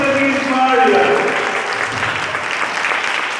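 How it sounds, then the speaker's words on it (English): An audience applauds a former student, Sister Jeez Maria, at a college literary fest, with steady, dense clapping that holds loud throughout and trails off only slightly toward the end. "Let's have an round of applause for Sister Jeez Maria."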